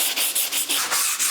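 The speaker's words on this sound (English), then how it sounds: "I'm going to give it a quick scuff with 180 grit" A laminate coffee table top is scuffed with 180 grit sandpaper: quick rhythmic back-and-forth rasping strokes, close and loud, about six passes in a short burst.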